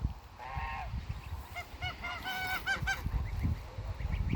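Several geese honk in quick, repeated calls at moderate distance over a low outdoor rumble, with no talking.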